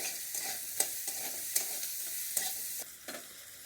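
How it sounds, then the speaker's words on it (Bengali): Onion, garlic, green chili and whole spices fry in a pan, with a soft continuous sizzle and repeated scraping strokes of a spatula stirring, close but fairly quiet, no talking. "পেঁয়াজ রসুন কাঁচা লঙ্কা আর ফোড়নটা সুন্দর করে ভেজে নিয়েছি"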